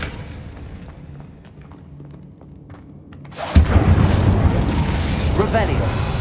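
An Incendio fire spell cast in Hogwarts Legacy bursts in with a sudden loud whoosh and boom, then a sustained roaring crackle of flames, following a quieter stretch of ambient game sound.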